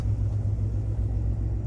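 A Chevrolet El Camino engine idles in a steady, loud, close low rumble with no clear rev swell, heard alone without talk.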